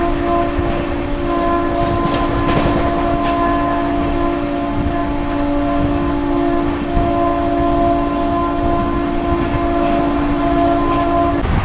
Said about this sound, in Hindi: तो भाई उस साइड ओवरटेक कर रहे हैं पश्चिम सुपरफास्ट एक्सप्रेस को।